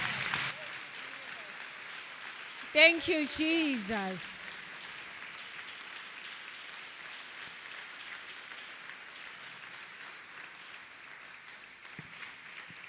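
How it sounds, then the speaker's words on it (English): Church congregation members clap hands in a light, continuous patter during a testimony service, with voices calling out over it and a brief louder burst of shouting partway through. "Clap hands for Master Jesus."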